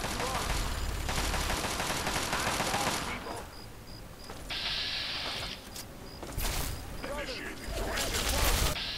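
Plasma rifle fire in the game Fallout 3, dense bursts of shots and impacts interspersed with mechanical electronic tones and crashes, loud and nearly continuous, with a voice partly talking over it.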